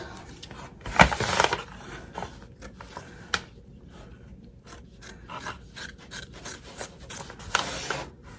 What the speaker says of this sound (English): we're going to go ahead and take some applique scissors and we're going to cut all the way around here